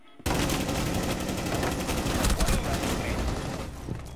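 Gunfire in Rainbow Six Siege, a sudden loud burst of rapid automatic fire that starts abruptly and keeps hammering densely for several seconds, close and dominant.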